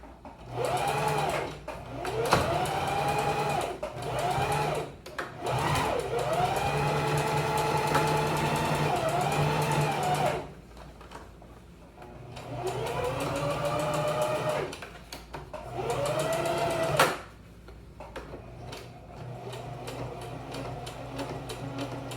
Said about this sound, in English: I use a zigzag setting on the machine for sewing the elastic.